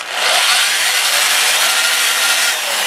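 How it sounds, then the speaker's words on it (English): An 80-grit, 2-inch sanding disc grinds against turned elm wood, a loud, close, continuous abrasive rasping that stays steady throughout with no voices. "I'm going to start with 80 grit on my 2-inch disc"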